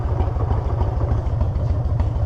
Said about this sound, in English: It's idling better, it's just running better.